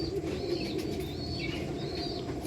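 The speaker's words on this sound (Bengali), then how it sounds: "এই দুটো পায়রা" A pair of pet pigeons, one female and one male, give soft coos and high chirps that repeat in short, fairly loud phrases over a steady low rustle.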